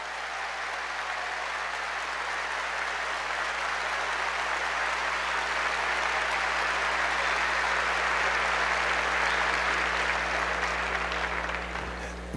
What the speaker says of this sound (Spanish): un fuerte aplauso para estos hermanos que nos acompañan.